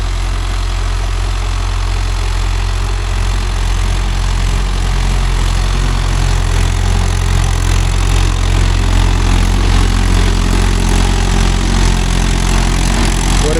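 A Mahindra Arjun Novo 605 diesel tractor engine runs steadily close by, a loud continuous low rumble with a chugging idle character throughout, no voices over it.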